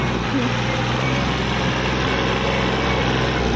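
A 24 hp four-wheel-drive tractor climbs a steep slope, its engine running as a steady, loud low rumble with no pauses from start to end.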